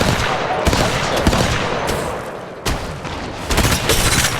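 Gunfire in the mobile game Apex Legends Mobile: dense, loud automatic bursts with rapid cracking shots and booming impacts, briefly pausing before resuming, filling the whole stretch without a break.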